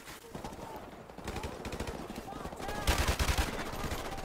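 Rapid automatic gunfire in the video game Call of Duty Modern Warfare Remastered, steady crackling bursts that grow louder toward the end, heard under a voice.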